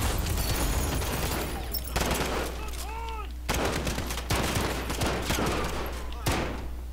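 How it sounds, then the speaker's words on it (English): Pistol fire in the video game Modern Warfare: several sharp shots crack out at irregular moments over a constant low drone and busy in-game background noise. "I like the pistol though. It sounds so good."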